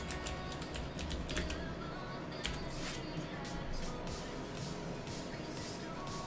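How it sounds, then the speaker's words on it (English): Typing on a computer keyboard while setting up OBS Studio for video capture, a rapid run of light clicking keystrokes, close and moderately quiet, with faint room noise underneath. "Let me actually type that in for you."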